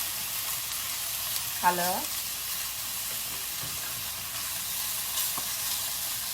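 Beef browning in a wok for a beef stew, giving a steady low sizzle and frying hiss throughout, with a brief louder stir or scrape near the start and a faint word spoken.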